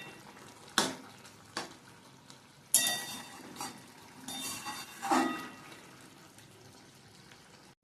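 Potato and red amaranth curry with lentil dumplings bubbles gently in a pan, with soft scraping stirs and a few sharper clinks of a spoon against the pan.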